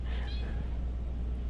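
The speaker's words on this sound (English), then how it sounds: "the kitten almost fell off the bed trying to play with something" A kitten gives a short, faint meow near the start, under low background rumble and a murmur of room noise.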